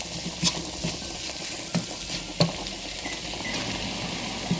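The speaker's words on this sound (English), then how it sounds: "We're just going to give this a good mix." A tuna cake mixture seasoned with garlic powder and chili powder is stirred in a bowl, giving soft scraping strokes with a few sharper knocks of the utensil against the sides, steady and close with no talking.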